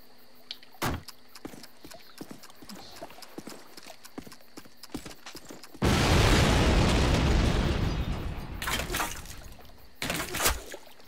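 Gunfire from across a river in Call of Duty: sharp isolated cracks, then a long loud roar of sustained fire from about six seconds that thins into a few final bursts near the end.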